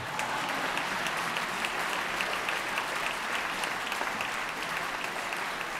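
Audience applause during the California State of the State address, a dense, even roar of many hands in a large hall that carries steadily throughout with no speech over it.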